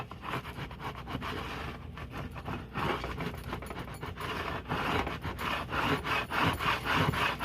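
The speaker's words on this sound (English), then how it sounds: "you're going to want to take your scraping tool." A scraping tool rubs back and forth across transfer tape on a domino, making steady, close, raspy strokes in an uneven rhythm with no talking.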